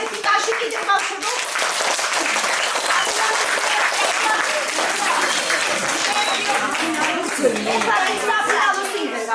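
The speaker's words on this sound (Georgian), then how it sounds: "აბა ერთი ტაში კიდე გავხდება." Outdoor gathering crowd bursts into sustained lively applause, many hands clapping densely throughout while people chatter and talk over it.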